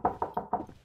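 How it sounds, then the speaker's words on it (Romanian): Five quick knocks rap on a door in a late-night pizza-delivery horror video game, evenly spaced and fairly close, the last one trailing off softer. "Bro, a bătut cineva la ușă."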